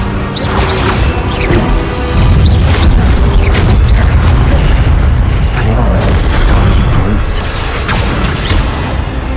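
An Expelliarmus spell is cast in the Hogwarts Legacy video game, a loud magical boom with crashing impact and crackling bursts, a shouted voice over the sustained din of combat.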